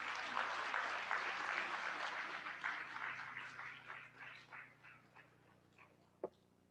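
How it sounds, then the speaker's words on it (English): Audience at a college autonomous status declaration ceremony claps in a moderate round of applause that gradually thins and fades out, ending with a single sharp knock. "Shall we have a round of applause?"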